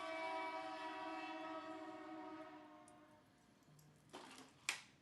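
A distant train horn sounds steadily with a long harmonic drone that fades away, followed by a few clanks and thumps as the rumble dies down.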